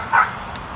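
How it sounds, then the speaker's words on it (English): A dog gives a single short, loud bark close by, then falls quiet. "And say hello to Quincy, the barking dog."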